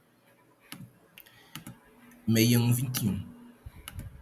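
Computer keyboard keys clicking in scattered single taps and a short burst as hexadecimal bytes are typed in, with someone speaking Portuguese over part of the typing.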